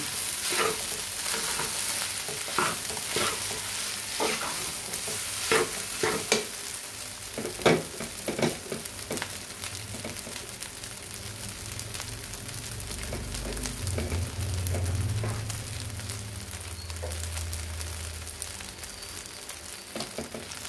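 Food frying in a pan gets stirred with repeated scraping clacks of a utensil over a steady sizzle, with a lower bubbling rumble swelling partway through and no voices.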